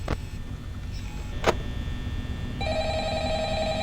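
A telephone begins ringing in the security office of the horror game Five Nights at Freddy's, a steady trilling tone starting late after a couple of brief clicks and background hum.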